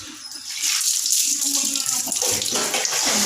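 Bathwater splashes and runs while a young child is washed, a continuous close wet wash with voices talking over it.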